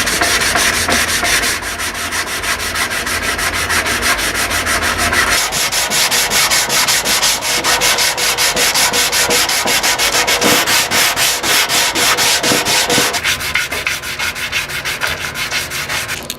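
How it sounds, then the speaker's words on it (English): Hand sanding piano wood with 120-grit sandpaper on a sanding block: steady, close, loud rasping strokes that continue for the whole stretch, with changes in stroke texture partway through and no talk. "I've got a nice sand going. I'm doing this with the 120. Then I'm using a sander's block to make the job a little bit easier."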